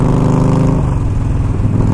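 A Yamaha Stryker motorcycle engine revving, a loud, close, throaty rumble that rises and shifts pitch over a couple of seconds.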